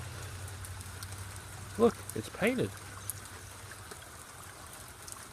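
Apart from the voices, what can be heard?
rain falling outside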